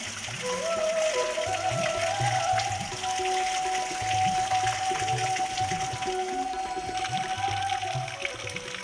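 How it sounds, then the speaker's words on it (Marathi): Steady rushing mountain spring water flows continuously near a temple in Dapoli, a broad hiss with a faint tonal whine running through it, with low rumbling underneath. "डोंगरातून येणारं हे पाणी थंडगार आणि गोड आहे."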